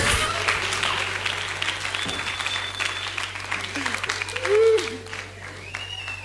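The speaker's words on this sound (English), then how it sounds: "Let's clap for Jesus for one of them." A church congregation at a Friday deliverance service applauds. The clapping is moderately loud and fairly distant, thinning out over several seconds, with faint voices and a hum running underneath.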